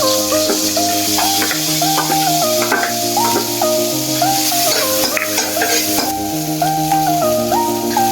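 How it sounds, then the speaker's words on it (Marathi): Chopped onion sizzles steadily in butter for pav bhaji, a continuous frying hiss heard under loud, prominent melodic music throughout. "या ठिकाणी आपण घेतलेलं आहे बटर आपण बारीक चॉप केलेला कांदा टाकणार आहोत"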